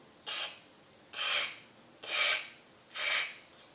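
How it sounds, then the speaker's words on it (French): A rat in respiratory distress takes four slow, harsh raspy breaths in an even rhythm, each a rough hiss lasting about a quarter second, close and fairly loud, otherwise quiet. "c'est typique d'un rat qui fait une détresse respiratoire"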